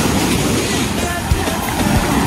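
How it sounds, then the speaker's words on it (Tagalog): Surf washes steadily onto a fine-sand beach at a resort, a loud continuous rush of water with wind noise buffeting the microphone throughout. "Ayun o, gat-gat na alon, di ba?"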